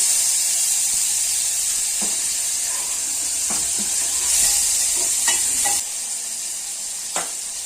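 Tomato pieces dropped into a hot frying pan for okra gojju give a steady broadband sizzle throughout, with a few brief clinks and stirring scrapes near the pan.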